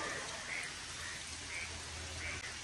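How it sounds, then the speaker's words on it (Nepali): Steady rain hisses continuously around a motorcycle rider on a road in Dang, Ghorai, a dense, even wash of drops with no clear breaks and no talk. "खतरा पानी पऱ्यो यार अलिअलि छिमछिम"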